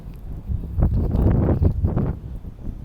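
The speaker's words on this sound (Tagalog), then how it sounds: "ang lakas pa ng hangin" Strong wind gusting through a snowstorm, a broad roaring rush that swells and surges in waves, loud and close against the microphone, with no speech.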